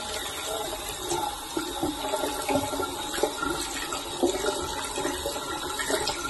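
Water runs and splashes as feet are washed during a pedicure foot-care routine, a steady trickling flow broken by small splashes, nearby and without talk.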